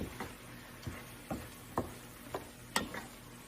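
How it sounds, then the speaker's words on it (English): A utensil stirs vegetables in a pan on medium heat, giving about six evenly spaced scraping knocks over a faint, steady sizzle, close and quiet with no voices. "We're going to stir and make sure this is on medium heat"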